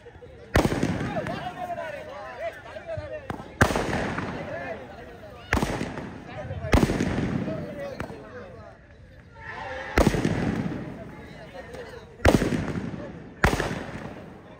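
Firecrackers go off at a tournament celebration: about seven sharp, loud bursts at irregular intervals, each with a brief crackling tail, while voices murmur in the background.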